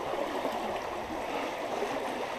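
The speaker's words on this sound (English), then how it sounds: "Okay, this water is moving fast." Fast-moving water in a creek rushes in a steady, close, broadband wash with faint gurgling and no break.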